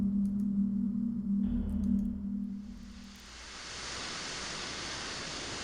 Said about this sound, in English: it looks like this pipe is bleeding steam out into the open air